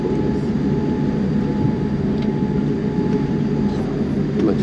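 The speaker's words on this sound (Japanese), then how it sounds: "では飛行機が止まるまでもうしばらく" Airliner taxiing after landing at Los Angeles International Airport, heard from inside the cabin as a steady, even engine and ventilation hum with a faint tonal whine throughout.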